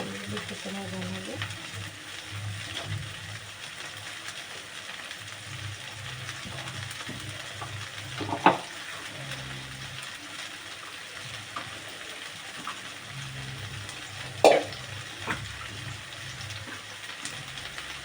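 Garlic paste fries quietly in a pan, a soft low sizzle running throughout with occasional stirring scrapes and two sharper knocks of a spoon against the pan.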